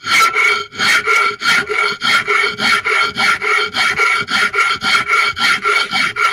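A metal file rasps across a metal edge in steady, rhythmic back-and-forth strokes at a workbench, about three per second, close and loud with no talking.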